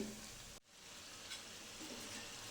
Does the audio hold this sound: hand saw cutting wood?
no